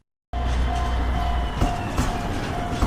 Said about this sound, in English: I hear the sound of the train.